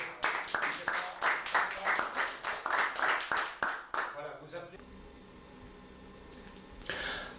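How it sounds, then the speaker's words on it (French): An audience claps steadily and fairly loudly for about four seconds in a rhythmic patter, then fades into a low broadcast hiss, with a brief swell of noise at the end. "Voilà, on applaudit quand même."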